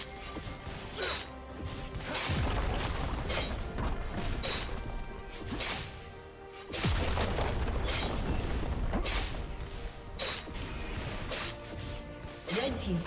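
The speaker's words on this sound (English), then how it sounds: "Red team's turret has been destroyed." Turret destruction in a League of Legends match, heard as loud crashing booms and smashing impacts, two heavy hits about four seconds apart over continuous game music and effects.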